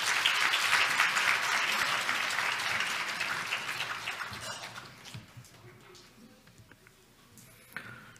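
A church congregation welcomes the pastor with applause, a loud burst of dense clapping that thins and fades across several seconds to a few scattered claps and a quiet room.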